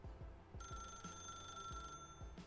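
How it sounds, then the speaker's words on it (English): Office telephone ringing in The Stanley Parable Ultra Deluxe, a bright electronic double ring sounding twice at steady pace, with low thumping beats running underneath. "I might actually have to answer this phone. It's been ringing for quite a while."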